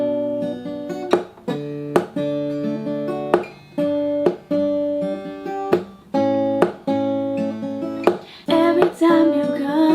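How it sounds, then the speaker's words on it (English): Acoustic guitar picked in a steady repeating pattern, played without a capo: close, clear plucked notes with periodic sharp muted strums, about ten bars in an even rhythm, no voice. "Our next picking pattern sounds a little closer to the track."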